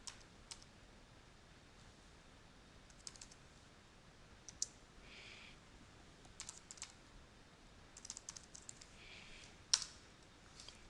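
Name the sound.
typing a command on a computer keyboard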